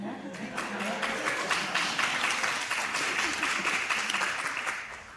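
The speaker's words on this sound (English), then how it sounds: "That's a good clap." Enthusiastic audience applause at a theatre song-cycle performance, dense clapping with distinct sharp hand strikes swelling and then tapering off, with some talk mixed in.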